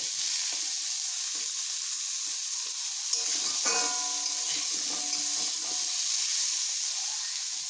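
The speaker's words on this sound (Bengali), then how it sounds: "এইভাবে ভালোভাবে ভেজে নিচ্ছি।" Pumpkin pieces fry with turmeric in a pan, a constant close hiss and sizzle with brief bubbling and stirring sounds partway through.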